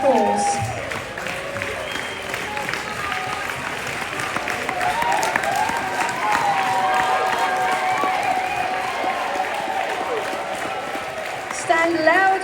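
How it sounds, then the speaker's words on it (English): A conference audience applauds and cheers at a bonus recognition event, sustained clapping with scattered whoops filling the room steadily throughout, with a voice briefly audible over the crowd. "Give these guys a big round of applause."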